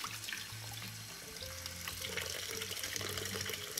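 Glutinous rice being rinsed under a running tap, with a steady stream of water splashing into a sink or bowl throughout, close and continuous with no talking.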